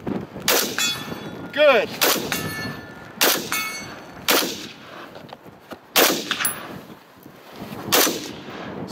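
Rifle fire at steel targets during military arctic training: about eight sharp, close shots at a quick uneven pace, several followed by a bright metallic ring from the struck steel, with a brief spoken word.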